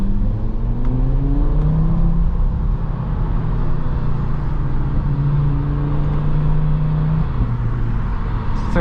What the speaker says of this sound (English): Damn, this stock exhaust sounds crazy.